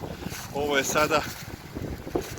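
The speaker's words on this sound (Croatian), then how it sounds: "Ovo što se čuje oko mene je opet vjetar" Warm southerly jugo wind blowing around a hiker on a mountain trail on Papuk, a steady breathy rush buffeting the microphone, with someone speaking briefly over it.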